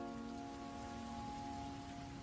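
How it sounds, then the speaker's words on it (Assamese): A heavy monsoon downpour gives a steady, dense hiss that holds evenly throughout, with sustained musical tones running over it. "বৰষুণজাক মুখলধাৰ হৈ পৰিছিল।"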